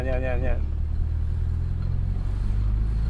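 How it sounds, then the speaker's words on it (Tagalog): A Mitsubishi Eclipse engine runs at low RPM with a misfire, giving a continuous deep, uneven rumble close to the microphone, with a brief voice at the very start. "Ayan, may palya nga siya. May palya siya on low RPM mga padi."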